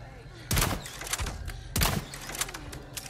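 Two loud, close gunshots from Resident Evil 4 Remake, about a second apart, each with a sharp crack and short rumbling tail, among quieter game thumps and a voice talking.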